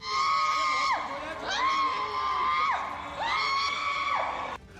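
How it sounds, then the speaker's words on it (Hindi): Grieving family members wail and scream at a hospital after a death, their long rising and falling cries repeating loudly over a murmuring crowd. "उनके घर वाले खुद पर काबू नहीं रख पाए और वहीं चीख पुकार मच गई"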